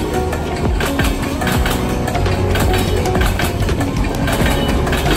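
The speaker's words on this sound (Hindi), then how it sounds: "आपको बैकग्राउंड में रेल की आवाज़ तो जरूर आ रही" A train rumbles past close by, with a steady clickety-clack of wheels over the rails and a loud, continuous roar throughout.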